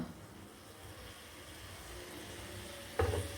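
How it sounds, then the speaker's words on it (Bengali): Prawns being stirred in oil in a wok, with a faint, low sizzle and soft stirring throughout, ending in a sharper clink of the utensil against the wok. "তেল দিয়ে একটু নাড়ছে মাছের মধ্যে"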